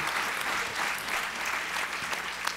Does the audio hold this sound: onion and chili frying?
no